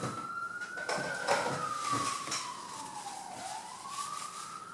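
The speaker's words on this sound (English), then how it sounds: "We just checked the box of a siren driving by the house" A vehicle siren wails as it drives past a house, rising and falling in pitch while fading in and out at moderate distance, heard faintly indoors with no talk over it.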